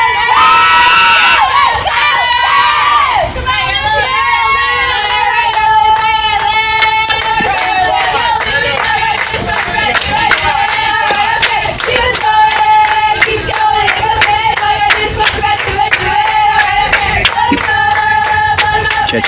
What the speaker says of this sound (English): look at the cheering. They're on it. They're loud. They're proud.